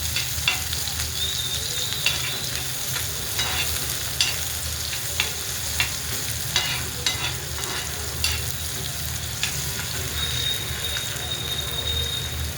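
Onion and carrot fry in oil in a pan while a spatula stirs them, with a steady hiss of frying punctuated by regular, sharp scraping strokes against the pan, close and fairly loud.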